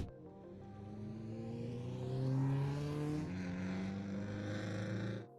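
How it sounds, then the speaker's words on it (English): A Mazda MX-5 covered in Christmas lights drives past, its small engine note climbing and then falling away as it goes by, fairly faint and alone with no voices. "Somebody buried a Mazda MX-5 under Christmas lights and drove it anyway"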